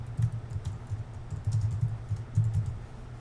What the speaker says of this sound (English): So if I was to start typing,